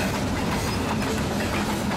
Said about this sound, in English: We're just gonna wait till the train passes us so we can proceed to go to Hamler.